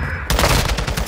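Rapid gunfire from the video game Modern Warfare 2, a dense burst of automatic shots that starts abruptly after a brief pause and keeps going loud and close to the end.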